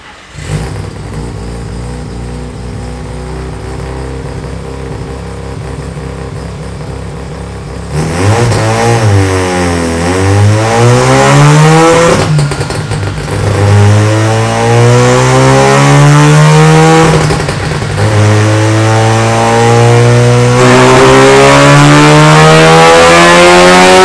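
A Mazda REPU pickup's rotary engine with custom individual throttle bodies revs hard on a dyno, loud and close, climbing through repeated pulls with brief drops in pitch between rising sweeps, no talking.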